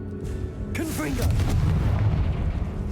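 A Confringo spell bursts in Hogwarts Legacy inside a tomb, a sharp magical whoosh followed by a booming, crackling explosion that rumbles on for a couple of seconds, with a voice calling out over the game sounds.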